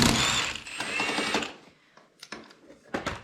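A snowmobile bolt is loosened with an impact wrench, giving a dense mechanical rattling burst for about a second and a half, then fading into a few scattered clicks and short rattles as the bolt spins free.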